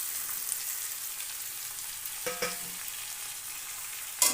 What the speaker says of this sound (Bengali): বেগুন ও ক্যাপসিকাম দিয়ে ভেজে নেব।